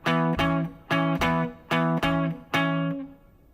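An electric guitar with distorted tone plays one measure of E as barre chords, in pairs of strummed hits. The last chord rings out and fades, with no voices.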